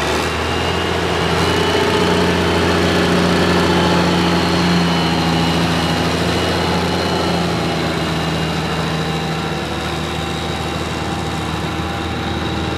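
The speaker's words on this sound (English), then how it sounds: "For Wayne on a little tractor out of Fredericksburg." At an altered farm tractor pull in Dillwyn, a small tractor engine drones loud and steady with a constant rumbling tone throughout, no pauses or talk.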